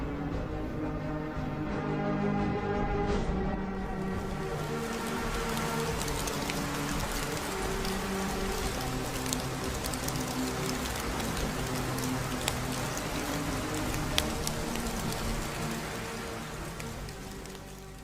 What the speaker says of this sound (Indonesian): Kemudian titik-titik air menjadi semakin berat dan tidak terbendung lagi, membuat butiran air jatuh. Disinilah terjadi hujan.